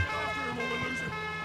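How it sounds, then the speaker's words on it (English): A wailing ambulance siren sounds from Call of Duty: Modern Warfare, a loud warbling tone that carries throughout the short moment over engine rumble. "Almost got taken out by an ambulance."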